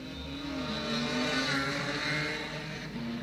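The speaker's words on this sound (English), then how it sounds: "Mick Grant with the big Kawasaki. Listen to these" Mick Grant's big Kawasaki racing motorcycle at the 1975 Senior TT on the Isle of Man roads, a loud, steady high-revving engine roar with rising and falling harmonics as the bike passes close by.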